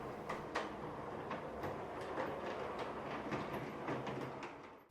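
An HO scale model locomotive runs on a small switching layout, giving a steady low rolling whir with light rhythmic clicks from the track, close and even throughout with no talking.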